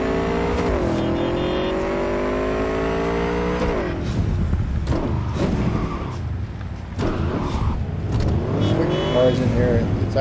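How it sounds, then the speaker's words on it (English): Car traffic in the video game Cyberpunk 2077, with engines revving and whirring and shifting pitch as vehicles speed and pass close by, loud and continuous throughout. "Traffic."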